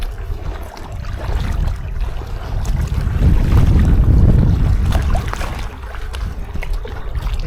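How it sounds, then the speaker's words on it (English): Loud wind buffets the microphone while a Klymit LiteWater Dinghy packraft is paddled across open water, with low rumbling gusts and faint splashing. "I'm going to paddle into Pike Corner"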